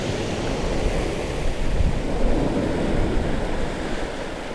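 Stormy beach with wind buffeting the microphone and crashing surf, a continuous loud roar of wind and waves with no voices.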